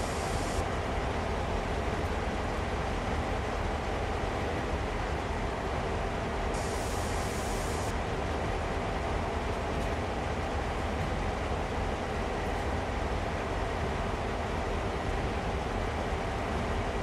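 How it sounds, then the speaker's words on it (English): An Amtrak train rumbling past in the video game Train Sim World, a steady, broad roar of wheels and rail noise holding evenly throughout, fairly quiet and without talk. "Train is out of sight now."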